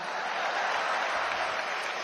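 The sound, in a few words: audience clapping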